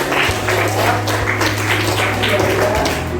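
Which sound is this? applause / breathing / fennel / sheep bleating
applause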